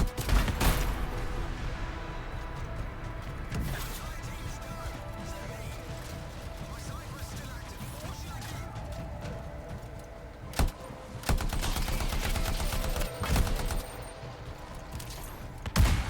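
Grenade blasts and bursts of gunfire in a video game, heard as sharp crashing explosions scattered through a dense, continuous roar of battle noise.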